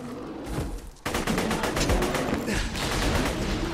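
Rapid bursts of gunfire from the video game Borderlands 2 crackle in a dense fusillade, with a quieter stretch at first and then loud, tightly spaced shots rattling continuously to the end.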